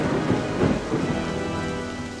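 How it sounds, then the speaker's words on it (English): Steady rain and rumbling thunder of a thunderstorm, a continuous wash of rainfall with low rolling thunder early on, fairly loud and without voices. "We've got thunder and lightning,"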